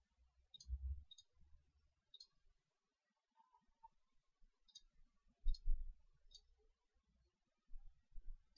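Faint, quiet mouse clicks in JewelryCAM jewelry-machining software, about six short isolated clicks spread over several seconds, with low soft bumps of handling between them.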